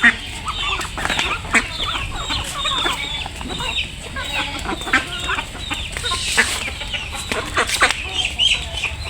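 Chickens cluck steadily and busily nearby around a home kitchen, a dense mix of short calls from several birds with background noise throughout.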